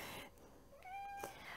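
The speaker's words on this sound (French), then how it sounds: "Voilà le chat." A cat meows once, a faint drawn-out rising call with a tonal pitch, heard alone in a quiet room.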